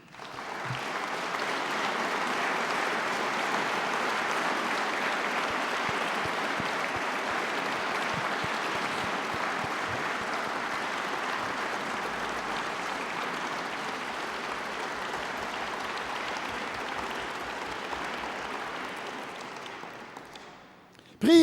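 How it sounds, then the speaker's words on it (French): A large formal gathering under the Coupole of the Académie applauds at its solemn autumn session, a long, even roar of many hands clapping that holds steady for about twenty seconds before tapering off. "nous les applaudissons."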